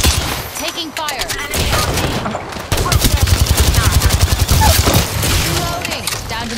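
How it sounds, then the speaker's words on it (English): Gunfire in the Apex Legends video game: loud, rapid bursts of automatic shots with sharp cracks, then a dense machine-gun stream, with brief voice sounds in between. "Taking fire."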